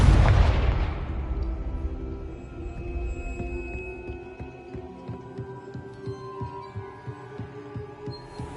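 A Confringo fire spell detonates in a Harry Potter video game: a loud boom at the start that fades into a low rumbling hum, with a steady pulsing throb continuing underneath and no talk.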